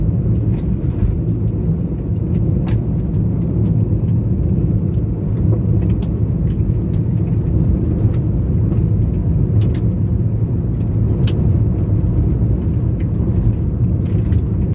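Steady low rumble of a car cruising along a road toward a hunting base, continuous engine and road noise at even loudness with no talking.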